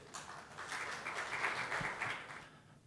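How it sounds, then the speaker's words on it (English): A conference audience claps to welcome a panel from a development bank onto the stage, a steady moderate wash of applause lasting a few seconds before tapering off. "Can we please welcome them with a round of applause?"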